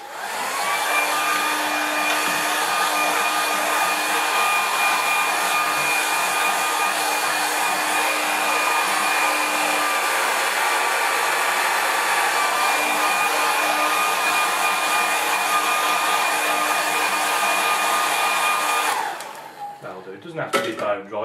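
A hair dryer blows steadily on watercolour painting paper fixed to a board, a loud, constant whirring hum that runs almost the whole time before switching off near the end.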